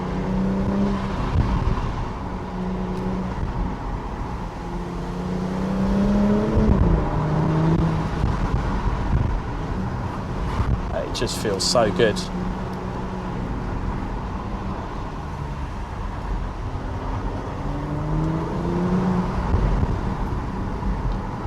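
A Porsche Macan Turbo in Sport Plus, in manual mode with its 7-speed gearbox, gives a low steady engine burble and drone from inside the cabin, rising and falling gently, while a person talks over it.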